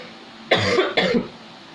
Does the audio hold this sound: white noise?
no